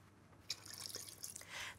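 Water poured into a Cuisine Companion food processor for orange blossom marshmallows, with sugar: a soft splashing trickle that starts abruptly, runs unevenly and swells toward the end, close up in a quiet kitchen.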